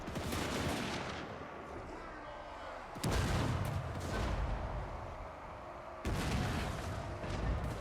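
Rifle fire from massed units in the Warhammer 2: Total War video game crackles in dense, overlapping volleys, with heavy booming bursts around the three- and six-second marks over a continuous battle din.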